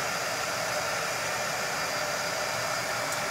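A hair dryer blows steadily on a sponge-painted, glow-in-the-dark dancing skeleton craft piece, a continuous even whoosh that holds constant and close for the whole stretch.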